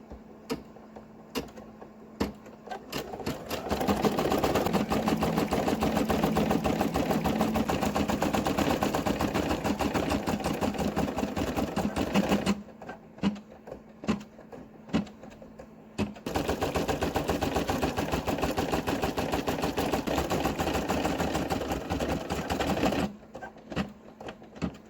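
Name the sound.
Brother PE800 embroidery machine sewing satin stitch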